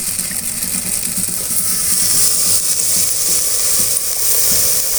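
Washed greens hitting a hot pan of sautéed tomato and onion for a village-style makili keerai kadaiyal, giving a steady, loud close sizzle and crackle of frying that holds throughout with no talking.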